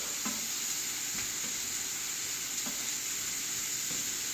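Beef for a cheese steak sizzles in a hot pan with teriyaki, a constant bright frying hiss with a few soft stirring knocks, close and steady, no talking.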